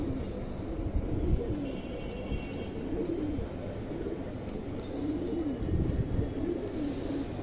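Pigeons of a show line, white with red markings, coo softly in repeated low rolling phrases, moderately near, with faint background hum and an occasional chirp.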